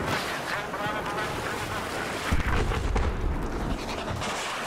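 Deep booming blasts and rumbling bursts from Battlefield 4 multiplayer erupt amid a busy, noisy backdrop, with heavier thuds clustering near the middle.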